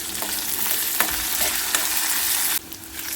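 Turmeric stirred into hot frying oil in a pan for a spine gourd curry, a close, loud sizzle with a few distinct spoon scrapes, ending in an abrupt change in the frying tone.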